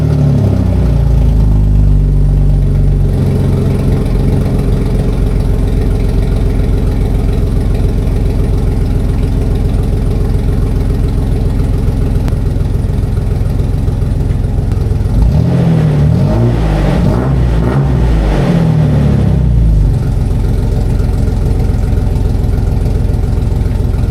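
A Jeep XJ with a newly fitted Flowmaster exhaust idles with a deep, steady rumble. Around the middle it revs up sharply a few times, then drops back to a loud, close idle. No talking.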